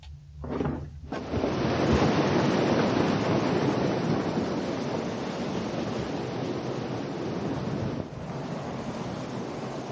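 Bubbling creek among big pine trees on a southern Utah thru-hike, a loud, steady broadband rush of water close to the microphone, with some wind buffeting and no voices.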